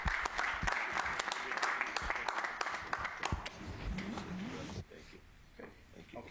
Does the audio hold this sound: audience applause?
yes